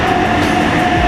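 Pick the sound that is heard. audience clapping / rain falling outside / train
train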